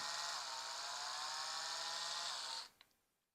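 An Oral-B Pro Series 1 electric toothbrush hums with a steady, close, high-pitched buzz for about two and a half seconds, then cuts off abruptly, leaving a brief click and near silence.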